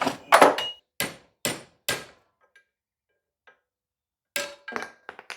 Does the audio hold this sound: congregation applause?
no